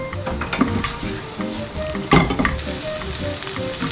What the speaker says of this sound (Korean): 조금 볶일 정도만 넣으시고 버섯하고 양파만 넣으세요